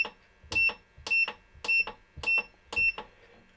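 A solar inverter sounds five sharp, harsh electronic beeps in a steady rhythm, each a short loud burst with quiet gaps between, close and clear with no talk.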